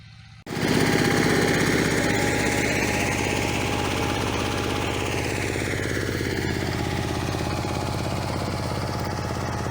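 A small motor cultivator engine starts up and runs loud and close while cultivating a pumpkin patch, a steady throbbing rumble that continues without pause.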